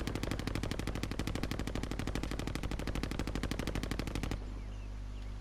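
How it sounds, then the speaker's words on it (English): Rapid automatic gunfire in the video game Warzone, a loud, steady stream of evenly spaced shots lasting about four seconds before cutting off abruptly to quiet background hum. "Where is that shooting from?"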